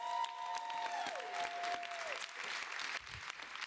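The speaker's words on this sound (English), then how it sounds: "A round of applause, please." An audience in New York's City Hall rotunda gives a round of applause at a gender equity announcement, a steady wash of clapping with a brief tonal sweep early on.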